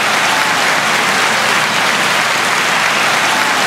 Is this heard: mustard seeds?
no